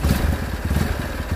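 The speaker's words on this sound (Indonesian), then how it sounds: "dan motor bisa kita coba. langsung nyala ya" A carbureted motorcycle engine fitted with a new spark plug runs with a steady, fast, close putter and a slight clatter, with no talking.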